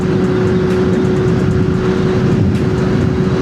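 Yamaha R6 600cc sport motorcycle engine at speed, a loud, steady high-pitched howl with constant wind roar, heard close from the rider's position, no voices.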